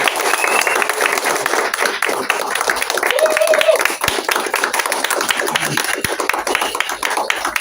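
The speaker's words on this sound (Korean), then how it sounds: "박수 부탁드리겠습니다" Steady clapping from a crowd at a Korean presidential campaign event fills the whole stretch, with voices mixed in underneath.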